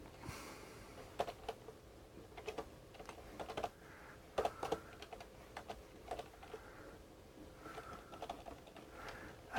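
Quiet, scattered keyboard typing on a computer during a Wednesday livestream, with irregular clusters of soft clicks and short pauses, closing on a slightly louder tap.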